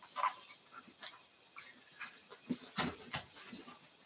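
Standard poodles pant softly and move around nearby, with faint scattered breaths and small shuffling sounds in a quiet indoor space.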